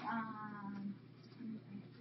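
A kitten gives a faint, short meow, followed by softer mewing sounds, quiet and close.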